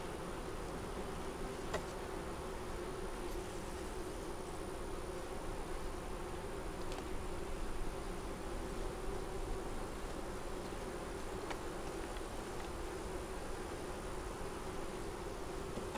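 Steady, dense buzzing of many honeybees at the hive during winter sugar feeding, constant and fairly quiet, with no voices.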